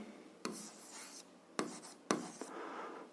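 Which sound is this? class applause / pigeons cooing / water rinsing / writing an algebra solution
writing an algebra solution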